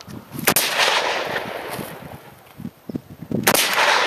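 Two sharp, loud gunshots at a shooting range, spaced about three seconds apart, with a few short voices in between.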